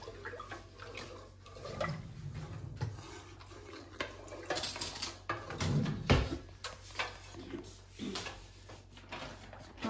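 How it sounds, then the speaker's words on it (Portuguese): A spoon or whisk clinks and scrapes around a bowl while a chocolate dessert is mixed, with irregular soft knocks and a few louder taps, fairly close and quiet. "vamos seguir misturando aqui"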